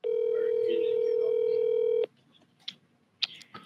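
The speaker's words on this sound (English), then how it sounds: "I'm gonna call Erica" A phone dialing a call: a steady tone holds for about two seconds, then cuts off, and two short sharp keypad beeps follow over faint room noise.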